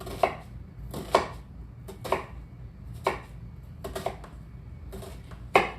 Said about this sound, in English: what I'm going to do is just little slivers, okay? And then I'm going to cut them real small.